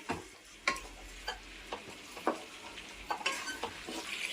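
Brinjal pieces coated in garlic chili paste roasting in a pan: a soft continuous sizzle with repeated distinct scrapes and knocks of a spatula stirring, close and fairly quiet, no voices.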